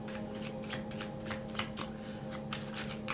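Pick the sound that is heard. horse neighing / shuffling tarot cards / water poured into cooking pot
shuffling tarot cards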